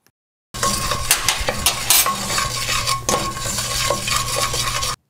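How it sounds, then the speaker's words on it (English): Spice powders and salt fry in hot oil in a pan, a steady sizzle broken by repeated utensil scrapes and clinks as the mixture is stirred. "Once the oil is slightly hot, add the spice powders."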